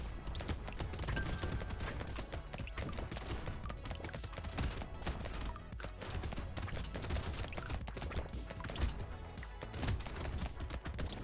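Rapid SMG gunfire from the video game Brotato, a dense, continuous stream of shots over busy game music and effects, loud and unbroken throughout.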